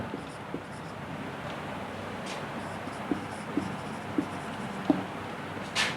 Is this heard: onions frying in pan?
no